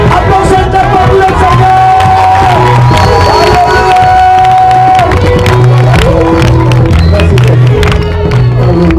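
A loud church congregation in Cameroon cheers and whoops over steady clapping, with music playing throughout and voices shouting in the mix.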